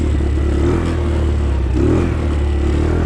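A Honda ATC 185 three-wheeler fitted with a Chinese 150cc engine runs in winter on bald tires, its loud, close engine drone holding steady with a slight rise in pitch midway.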